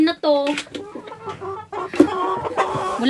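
Hens on a rural farm cluck and squawk close by in a busy, overlapping series of short calls, with some livelier bursts toward the end.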